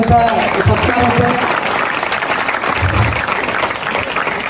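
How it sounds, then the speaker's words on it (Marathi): Academy students clap loudly during an honouring of a guest at a prize-distribution ceremony for a fort-building contest held by a cultural association in Saswad, dense sustained applause filling the hall throughout, with no voices rising above it. "अकॅडमीच्या सर्व विद्यार्थ्यांना विनंती आहे, जोरात टाळ्या"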